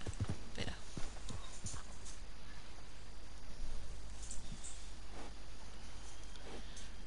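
Hooves of a thoroughbred racehorse clop in Red Dead Redemption 2, irregular clear footfalls at moderate distance over a low steady game ambience, with no talk.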